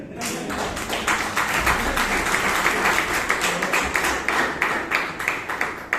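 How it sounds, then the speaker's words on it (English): An audience at a Bangalore Toastmasters meeting applauds, a dense, fairly loud burst of clapping that holds steady for several seconds before tapering slightly. "Give a big round of applause for asking so many questions"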